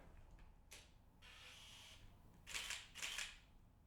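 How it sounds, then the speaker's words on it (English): A Nikon F-801 (N8008) autofocus 35mm SLR camera fires its shutter in high mode, giving a few quick, crisp mechanical clacks and a whirring motor drive, faint and close in a quiet room. "it's a great autofocus camera. See what it sounds a bit noisy though. Hang on, let's just fire it."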